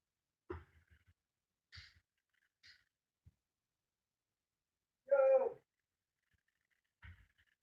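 A cat lets out a single clear meow midway through, among a few faint scattered taps and small sounds in an otherwise quiet room.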